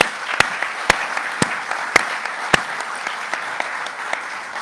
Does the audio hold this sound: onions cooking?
no